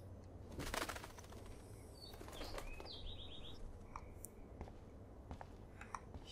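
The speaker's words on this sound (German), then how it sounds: "Na, kleiner Vogel, bist du immer noch da drin?" A small bird in the video game Life is Strange chirps a few times in brief high calls, faint and scattered over a dense rustling, crackling background.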